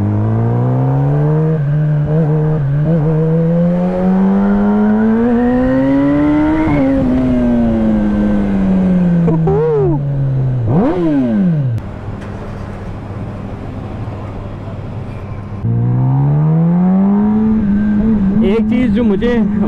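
A loud Kawasaki ZX-10RR sport motorcycle engine revs and climbs through gears with rising whine, briefly dropping off before surging again, close by, with faint talk underneath, in Lahore.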